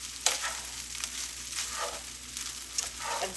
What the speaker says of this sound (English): And stirring that rice up and letting that bottom just get a little bit fried.